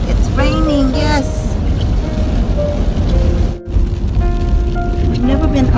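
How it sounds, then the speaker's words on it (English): Steady rain patters across a surface throughout while people talk over it. "It's raining, yes."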